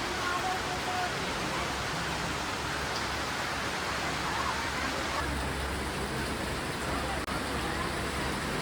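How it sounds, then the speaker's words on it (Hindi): Steady heavy rain during a trip to Vaishnodevi, a dense continuous hiss that stays loud and even throughout with no pauses. "पूरा बारिश।"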